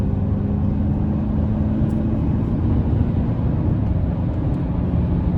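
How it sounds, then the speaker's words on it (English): Steady, low engine drone from a 2024 Chevrolet Silverado Custom Trail Boss with the TurboMax turbo engine pulling under acceleration, heard from inside the cabin as an even, unbroken rumble with no talking. "And I love the turbo sound. It just sounds so cool to me."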